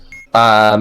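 A Keep Talking and Nobody Explodes bomb module gives one loud, sustained electronic beep after a brief faint tone, close and alone.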